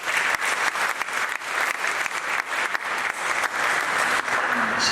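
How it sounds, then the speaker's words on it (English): An audience at a Cape Town science pitching event applauds its judges, steady dense clapping from many hands filling the room without pause, loud and close, with no voices over it. "Can we have a round of applause for our judges?"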